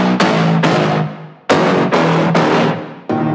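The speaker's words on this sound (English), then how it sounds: "And both together sound like this." Two synthesized dubstep brass layers, a dark low mono brass and a brighter regular one, blare together in loud sustained stabs, five punchy chord hits with short gaps between them and a sixth starting at the end.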